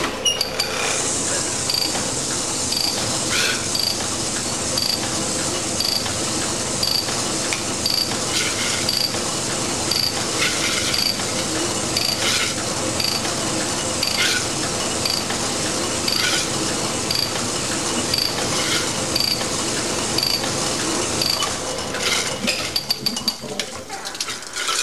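A Sunnen CV616 honing machine works a Mitsubishi Evo engine block, a continuous mechanical whir with repeated rhythmic ticks and clinks from steady strokes, ending abruptly near the close.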